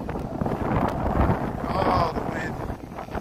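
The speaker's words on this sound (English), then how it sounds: "Oh, the wind." Strong wind buffets the microphone on a Chicago city street near Union Station, a loud continuous low rumble that mostly hides the background street sounds.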